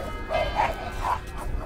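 A couple of dogs barking near the Leaning Tower of Pisa in Italy, a few short yips and barks heard at a moderate distance over steady outdoor background noise.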